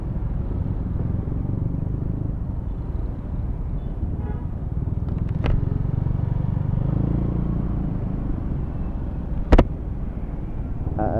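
Dense roadway noise from a traffic jam, with a steady low engine rumble from cars and motorcycles around a rider on a Yamaha Lexi 125 scooter, plus a sharp short horn toot near the end.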